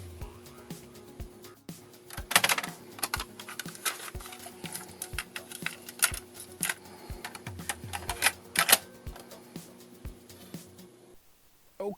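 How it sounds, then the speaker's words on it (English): Clicks and clunks of a cassette tape being handled and pushed into a ZX Spectrum tape drive, a run of sharp mechanical taps with a louder cluster near the middle, close and dry with no talking. "let's get one of these into a tape drive"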